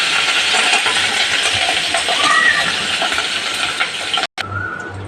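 Curry leaves dropped into hot mustard oil with dried chilli and panch phoron, giving a dense, steady crackling sizzle close by that briefly cuts out near the end.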